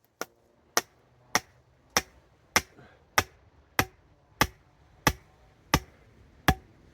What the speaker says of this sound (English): You want to hammer in until you can't hammer in anymore